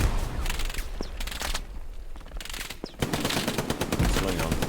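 Machine gun fire in the WWII shooter Hell Let Loose, during a tournament match, rips out in rapid bursts with a short lull in the middle, loud and close amid ambient battlefield noise.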